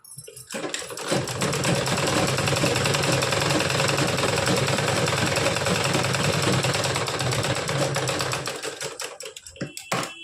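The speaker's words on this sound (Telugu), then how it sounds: "ఇంత గ్యాప్లో కుట్టు అనేది కుడతాం చూడండి" A sewing machine stitching a blouse runs continuously and loud at close range for about eight seconds. Its rapid mechanical chatter stays steady until the machine slows and stops.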